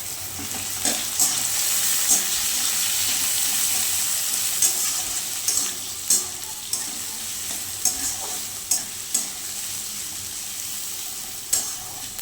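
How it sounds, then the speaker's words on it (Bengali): Vegetables with chopped tomato and crushed ginger stir-fry in a pan, making a continuous close sizzle broken by regular scraping stirs from a spatula, with no voices. "এবার একে একে আমি টমেটো কুচি দিয়ে দিলাম। এবার আদা থেতোটা দিয়ে দেবো।"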